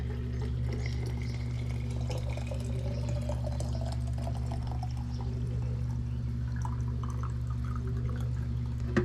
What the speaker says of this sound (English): And now we're gonna pour the rest of our broth into our jars.